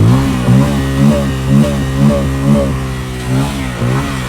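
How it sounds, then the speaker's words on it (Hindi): A Yamaha R15 v2 motorcycle revving loudly up close, its exhaust rising and falling in about eight quick blips with a steady idle between, no talking. "अभी थोड़ा सा स्टार्ट करो, इसकी एग्जॉस्ट नोट सुनाते हैं"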